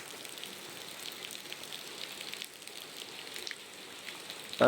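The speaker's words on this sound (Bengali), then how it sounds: "প্রচন্ড পরিমাণে বৃষ্টি হচ্ছে" Steady, dense night rain pours down in Kolkata, a continuous broadband hiss of drops hitting surfaces, with a brief louder burst at the very end.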